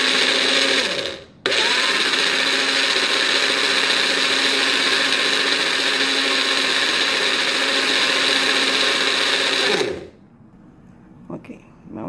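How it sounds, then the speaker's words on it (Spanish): A blender whirs steadily at close range, blending an aloe vera and ice cube mixture, loud and continuous with a brief pause early on, then cutting off to near quiet. "Y lo vamos a volver a licuar para que se mezcle."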